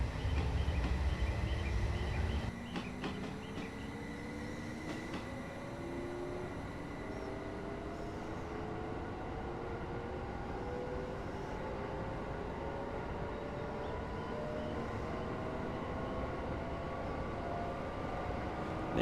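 A train in Train Simulator Classic, running on local lines in Japan, pulls away and picks up speed quickly. Its motor whine climbs steadily in pitch over a constant rumble, and a brief heavier clatter opens the sequence.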